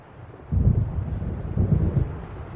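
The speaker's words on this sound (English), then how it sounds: "It seems there's a storm coming." Thunder from an approaching storm in the video game Alan Wake Remastered: a deep, rolling rumble swells abruptly and rolls on in waves under a breezy hiss, with no voices.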